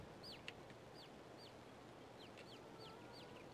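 Farm chickens cluck and chirp in the Farming Simulator 22 video game, repeated short calls spread across a steady hiss of ambient farmyard noise, moderately quiet with no talking.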